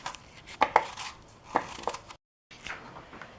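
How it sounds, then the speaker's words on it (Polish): Peeled apples being chopped into pieces on a board, a series of close, sharp knife knocks in uneven rhythm, a brief pause, then softer cutting sounds. "jabłka mamy obrane i kroimy je w kawałki"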